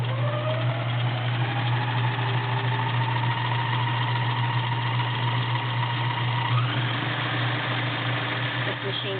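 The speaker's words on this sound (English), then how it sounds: "This machine will crank along nice and smooth." Vintage Kenmore convertible sewing machine running a zigzag stitch, giving a steady, smooth mechanical hum with a slight rise in pitch near the end.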